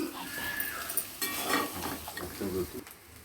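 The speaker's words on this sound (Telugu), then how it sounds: "బాయిల్ చేసుకున్న రైస్ వేసుకొని కలుపుకోవాలండి." Boiled rice being mixed into a hot pan with a spoon for egg pulao, a soft continuous scraping and shuffling with faint sizzling underneath, close and moderately loud.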